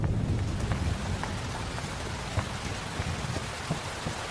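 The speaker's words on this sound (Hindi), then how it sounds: "आ जाओ, बारिश आने वाली है, अंदर चलते हैं।" Steady rain falls continuously, a dense hiss with scattered heavier drops tapping nearby, with no voices.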